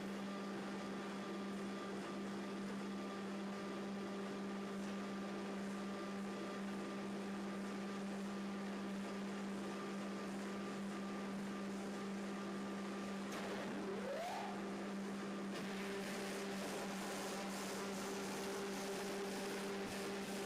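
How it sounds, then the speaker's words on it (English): Surface grinding wheel making a pass over a cast-iron straightedge, a steady faint machine hum with a constant tonal whine that runs the whole time, with a brief rising sweep partway through. "I feed the grinding wheel back into working position. Using Y, lower it another 5 microns and perform the next pass."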